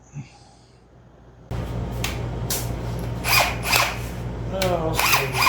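A power drill fitted with a hole saw cuts out bolt holes on a square-body Chevy C20 tow truck. Near silence gives way to a sudden steady whir, with sharp bursts of louder grinding as the saw bites into the metal.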